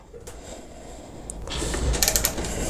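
A Milwaukee M12 cordless ratchet works on a tough bolt up close, giving a mechanical whirring and clicking that grows louder and denser midway through, with brief creaking gear sounds.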